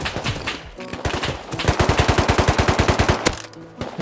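Rapid automatic gunfire in the survival game Rust, a loud close burst of evenly spaced shots that runs for about two seconds, with scattered single shots before it and a sharp crack near the end.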